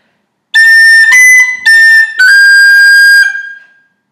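A tin whistle plays a phrase from the Irish tune Scaip An Puiteach (Scatter the Mud), four crisp tongued notes with a longer held note at the end that fades away, loud and close, with no talk.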